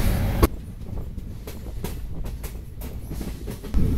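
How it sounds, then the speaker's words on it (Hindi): Jammu Tawi Ahmedabad Express train running, heard from inside a sleeper class coach: steady loud rumble with scattered wheel clacks and rail knocks, no talking. "यहाँ से ट्रेन है वो मुड़ रही है और जाएगी पठानकोट कैंट।"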